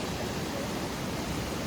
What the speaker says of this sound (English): just made it to Manthokha waterfall